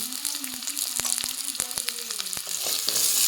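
Chandramukhi potato pieces with salt and turmeric fry in hot oil, a steady close sizzle broken by sharp stirring clacks that recur every half second or so, with no talking.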